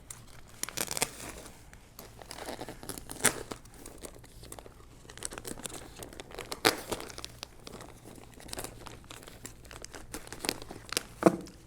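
A plastic bag being cut open and handled to form a pot for seedlings, close crinkling and rustling with irregular snips and tearing bursts, quiet between movements, no talk.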